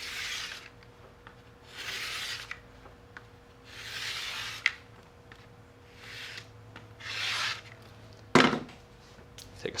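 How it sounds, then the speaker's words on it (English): Scrap piece of foam rubbed back and forth to squeegee glue into score cuts on foam board, soft rhythmic swishing strokes about a second each, close and quiet, ending with a sharper scrape and knock. "Take a scrap piece of foam and squeegee that"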